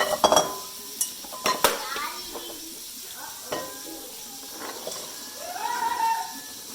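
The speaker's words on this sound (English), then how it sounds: "Then we're going to dump them back in the bowl." Rinsed, soaked pinto beans are dumped back into a bowl, with sharp clattering bursts at the start, then softer scattered knocks and rattles close by and no talk.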